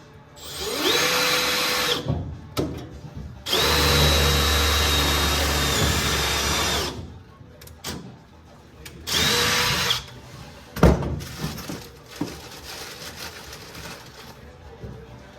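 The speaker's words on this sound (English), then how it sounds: "Got a 1/8 inch drill bit." An electric drill with a 1/8 inch bit runs in several bursts of whining motor noise, spinning up and down with brief pauses and clicks between, working on a chopped hot rod window.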